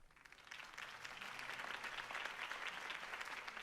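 Steady crowd applause in the Batman Telltale video game, a dense wash of many hands clapping that holds at an even level for a few seconds, somewhat distant.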